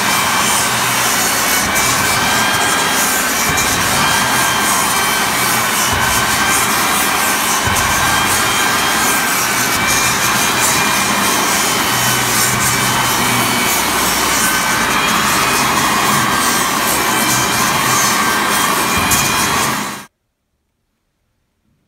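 Floor sanding machine working over a parquet wood floor, a loud, steady continuous grinding drone with broadband hiss that holds for about twenty seconds, then stops abruptly into silence.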